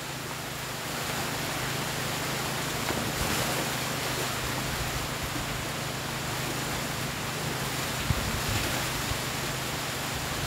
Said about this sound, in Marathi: हे बघा जोराचा पाऊस आला आहे. मुसळधार पाऊस